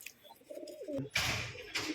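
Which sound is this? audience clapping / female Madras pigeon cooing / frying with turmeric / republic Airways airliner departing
female Madras pigeon cooing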